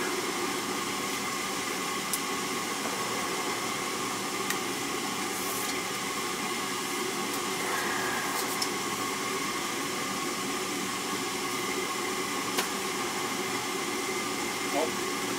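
Ruud gas furnace firing up and running on a cold day, a steady broadband roar of burner and blower with faint clicks and brief knocks on top, constant and close.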